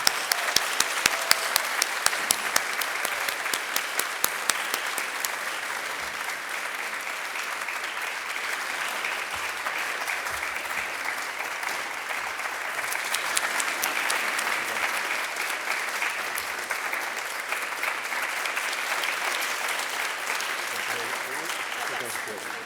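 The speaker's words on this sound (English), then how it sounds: "Let's give her a round of applause." Sustained audience applause at a university award ceremony for distinguished service in international education, steady clapping from a large crowd continuing for over twenty seconds without pause.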